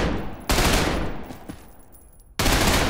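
SMG gunfire in the shooter Trepang2: loud, rapid automatic bursts with dense crackling reports, one burst fading into a tail before another sharp burst starts near the end, no talking.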